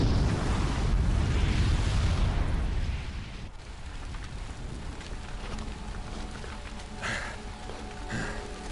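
A bomb rigged with a booby trap goes off in Horizon Zero Dawn, a loud, deep rumbling blast at the start that fades into a long, crackling wash of falling debris and scattered pops.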